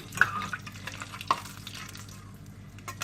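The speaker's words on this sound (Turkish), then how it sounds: "Yağımız ısındıktan sonra bir çay kaşığı pul biberimiz arkadaşlar." Chili flakes sizzle softly in hot oil in a pan while a sauce topping is made for a mushroom soup, with gentle stirring scrapes and a couple of light utensil clicks close by.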